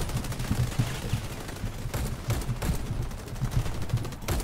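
Cobalt Kinetics rifle fire in the Warface shooter game: rapid, loud bursts of gunshots in a dense, continuous rhythm with sharp cracks standing out, no talking.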